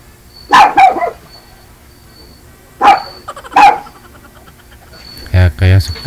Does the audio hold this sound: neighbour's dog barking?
yes